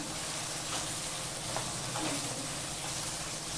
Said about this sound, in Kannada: ಈರುಳ್ಳಿ ಫ್ರೈ ಮಾಡ್ಕೊತೀನಿ